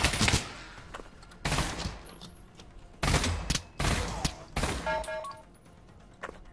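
Rapid bursts of gunfire in the VR shooter Pavlov come in several loud, sharp volleys with short pauses between them, along with faint in-game beeps.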